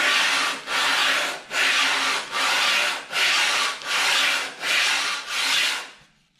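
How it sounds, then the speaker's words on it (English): The sole of an antique Stanley No. 4 hand plane is sanded on a flat surface in eight loud, close, rhythmic back-and-forth rasping strokes, each a gritty scrape, with no voices. "we're just going to sand back and forth"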